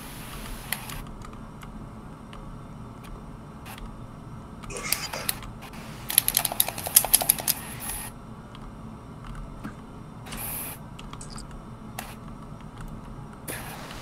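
A game controller clicks loudly during an online gaming session: sparse sharp clicks over a low room hum, with a dense rapid burst of clicking in the middle.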